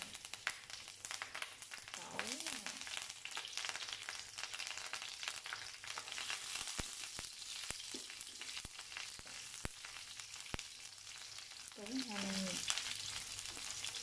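Curry leaves and garlic fry in a pan with a steady, loud broadband sizzle, broken by sharp clicks of stirring. Brief voiced sounds from someone nearby come through the crackle.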